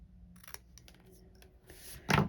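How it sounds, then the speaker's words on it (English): Scissors cut paper for a Stampin' Up! tulip card project, giving a few faint snips close by followed by one louder, longer cutting stroke near the end. "scissors."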